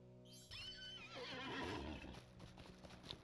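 A horse ridden in The Lord of the Rings Online neighs loudly up close, a long whinny over steady clip-clop hoofbeats that carry on afterward, with no speech.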